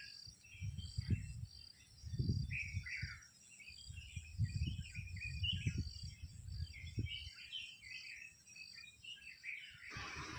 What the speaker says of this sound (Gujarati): કેટલું મસ્ત શાંત અને એકદમ પક્ષીનો અવાજ ક્લિયર સંભળાય ને એટલું મસ્ત